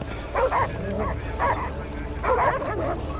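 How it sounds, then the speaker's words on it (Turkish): Dogs bark in short bursts, about three times, over a steady rumbling background noise. "köpekleri uzaklaştırın, tamam."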